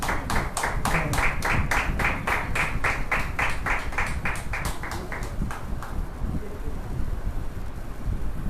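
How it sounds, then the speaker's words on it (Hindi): A church congregation at a Thursday healing service claps together in a steady rhythmic beat that gradually thins out and fades into a broad wash of crowd noise. "तो आइए हम जोरदार तालियों के साथ में परमेश्वर का दास का हम स्वागत करेंगे।"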